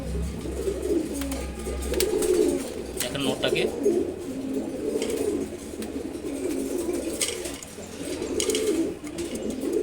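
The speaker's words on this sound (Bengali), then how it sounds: "রেসার কবুতর জোড়া, মাশাআল্লাহ খুবই সুন্দর একটা জোড়া।" A pair of racing pigeons coo repeatedly in soft, throaty rolling phrases close by, while a person speaks over them.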